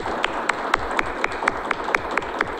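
Rhythmic audience clapping at a ceremony honoring waiters, a loud crowd clapping in unison with steady, evenly spaced beats over a wash of applause, close and continuous.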